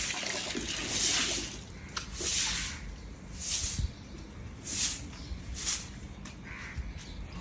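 Running tap water splashes during dish washing at home, with repeated bursts of spray and clatter over a steady wash; a crow caws in the background and no one speaks.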